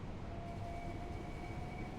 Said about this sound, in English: Another train there.